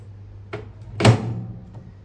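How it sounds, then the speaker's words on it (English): Microwave oven door swinging shut, a soft first knock followed half a second later by a louder, close thump as it latches, then a faint trailing clack. "Load your food inside and then close the door."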